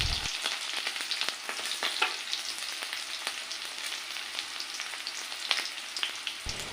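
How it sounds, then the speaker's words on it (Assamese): Chopped onions and chillies frying in hot mustard oil, a quiet, steady crackling sizzle with scattered pops and spatters, heard alone throughout. "মিঠাতেলখিনি গৰম হোৱাত এতিয়া মই কাটি থোৱা পিঁয়াজ আৰু জলকীয়াখিনি দি দিছোঁ।"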